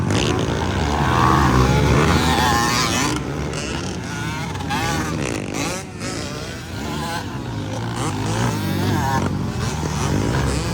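Motocross motorcycles racing in a local enduro final heat at a festival track, engines droning loud and continuous with a crowd and an announcer talking over them throughout.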